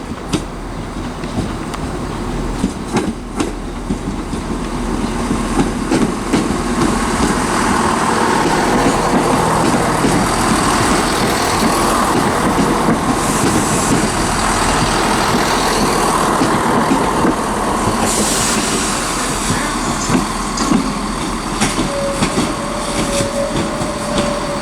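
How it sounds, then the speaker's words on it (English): A ScotRail train from Edinburgh arrives and terminates at Aberdeen station, its steady diesel rumble and rolling wheel noise continuous and fairly close, with a faint squeal of brakes near the end. "arriving now, got a terminating ScotRail service from Edinburgh"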